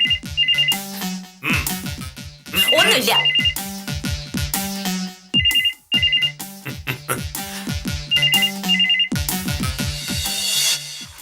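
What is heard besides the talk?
telephone ringing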